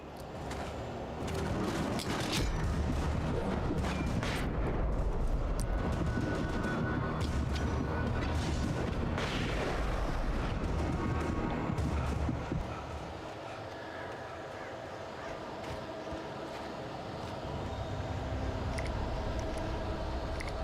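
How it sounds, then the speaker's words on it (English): Flashbang grenades go off in the video game Alan Wake as a dense run of loud booms and crackling bursts for about twelve seconds, fading into a quieter rumbling aftermath. "Putting up 4 flashbangs now."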